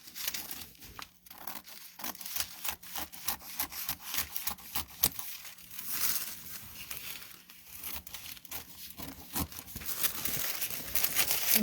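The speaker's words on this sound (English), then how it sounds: "when you go to cut out your new pattern for your, this is the back, I'm only going to cut what I need." Scissors cut through a paper sewing pattern in quick, uneven bursts of crisp snipping and rustling, the paper crinkling and rubbing between cuts, close and fairly quiet with no talking.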